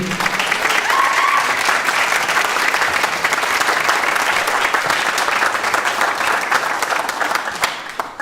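Steady, full applause from a graduation ceremony audience continues throughout, a thick wash of many hands clapping that tapers slightly at the close.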